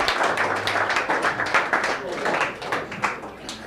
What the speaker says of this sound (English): if you can give a great round of applause for Josh Munson.